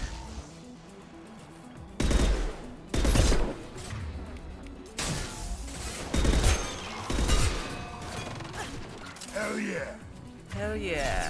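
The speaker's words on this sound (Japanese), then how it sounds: "スナイパーライフル強い。" A sniper rifle firing in the video game Mass Effect 2: several sharp, loud shots a second or two apart, with game effects in between and a player talking.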